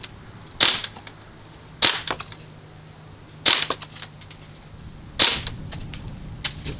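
An Umarex M1A1 airgun fires at K-cup targets, with four separate sharp, close cracks at uneven intervals, each followed by a brief rattling tail.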